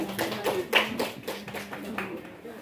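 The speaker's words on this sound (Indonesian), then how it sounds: "Tepuk tangan Bapak Ibu semua." A short burst of clapping at a teacher training session, uneven and light, with a voice speaking over it.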